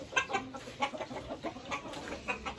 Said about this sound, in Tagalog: Madami siyang manok dyan.